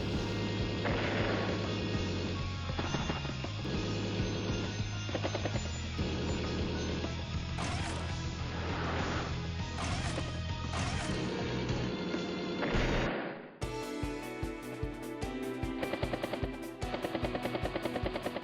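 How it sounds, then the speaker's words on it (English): A battlecopter booster strike in Advance Wars: Days of Ruin plays as loud, continuous game audio, with crashing impacts over music, then a sudden cut into a sharper, rhythmic stretch of hits. "Battlecopter gets a booster strike there."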